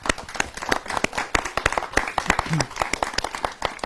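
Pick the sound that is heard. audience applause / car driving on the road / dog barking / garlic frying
audience applause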